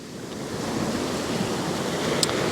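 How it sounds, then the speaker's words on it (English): Ocean waves crash and surge along the shore at sunrise, a continuous close roar of surf with wind noise, swelling slightly louder toward the end. "it brings the waves suddenly crashing in"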